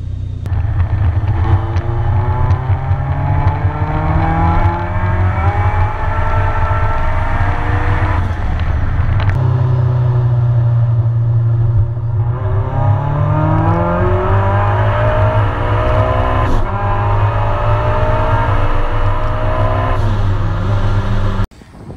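A K-swapped Mini Cooper engine runs steadily under load while driving, a loud continuous engine drone with rising and falling revs as it shifts through gears, close and alone without talk.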